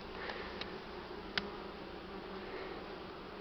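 Steady buzzing of many bees, a low continuous drone with a couple of faint clicks, no talking.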